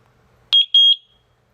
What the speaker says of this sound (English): You hear the two beeps.